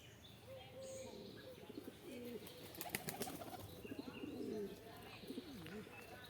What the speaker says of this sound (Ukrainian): Тут голубці чекають на сніданок